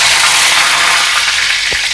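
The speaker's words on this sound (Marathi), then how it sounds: "आता फोडणी करूया।" Spices for a dried shrimp masala tempering sizzle in hot oil with a loud, close, steady frying hiss, a single low thump near the end.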